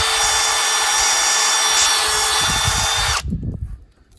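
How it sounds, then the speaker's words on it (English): A power drill bores holes into a log for mushroom plug spawn, a loud, steady high-pitched whine for about three seconds, then it cuts off, leaving faint thumps and handling noise. "I'm gonna just get to drilling these holes"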